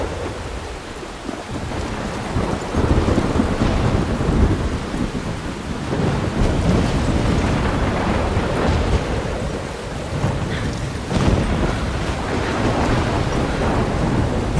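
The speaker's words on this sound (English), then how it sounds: "I see it. This is the storm, I imagine." A thunderstorm from the video game Life is Strange fills the scene with heavy, continuous rain and rolling rumbles of thunder, loud and steady throughout, with no voices.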